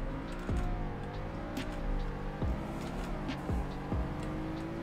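Engine of a sport trim car in the Roblox game Greenville, running through short gears, drones steadily, with several quick rev drops at gear shifts as it gains speed.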